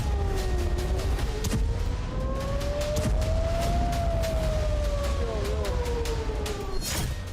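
An air raid siren wails during a missile attack in Israel, its tone slowly rising and falling over a constant loud roar, with sharp clicks and a bang near the end.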